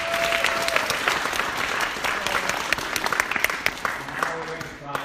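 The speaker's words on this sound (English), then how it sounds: "can we give a big round of applause for Lewis M. Schmidt?" An audience applauds an artist at a small live event, sustained dense clapping throughout that tapers slightly toward the end, with a voice speaking briefly over it.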